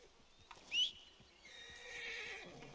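A horse in Red Dead Redemption 2 gives a short, quiet whinny, followed by soft hoofbeats and faint rustling. The sound is game-like.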